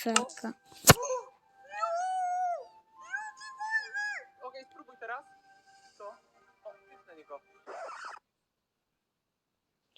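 A cat meows several times in short, varied calls, close by, with people talking in the background.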